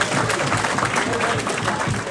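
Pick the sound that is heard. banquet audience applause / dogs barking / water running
banquet audience applause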